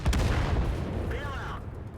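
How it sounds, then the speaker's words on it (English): A tank cannon fires in the World of Tanks video game during a shot at an enemy tank: a loud, close blast opens the moment, followed by rumbling engine noise and a faint whistling tone. "Going to take a shot at this tank."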